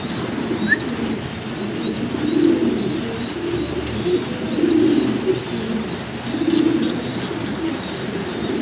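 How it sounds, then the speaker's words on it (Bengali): A pigeon coos in low, soft, repeated rolls every couple of seconds, close by over a steady background hum, with a faint chirp early on. "চমৎকার এই কবুতরটা"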